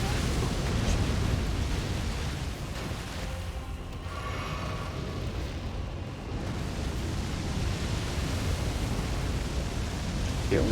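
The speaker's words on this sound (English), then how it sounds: "Okay, just fire breath." In the video game Elden Ring, a dragon's fire breath roars as a thick, unbroken, loud wash of rushing noise that swells and ebbs slightly over about ten seconds.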